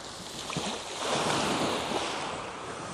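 Sea waves roll onto the shore at Sochi with steady wind, a continuous broad wash of surf that swells slightly midway and stays close and fairly loud, with no voices.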